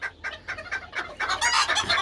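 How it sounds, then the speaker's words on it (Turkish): A rooster pecks at onion salad while letting out a quick series of short, close clucks, rapid and uneven, rising into a louder burst near the end. "Bakın nasıl löp löp yiyor horozumuz"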